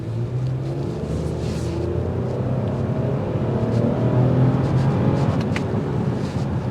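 A 2024 Toyota Camry XSE V6 accelerates hard on an open road, its engine rising in a loud continuous drone and rumble heard from inside the cabin, with no talking.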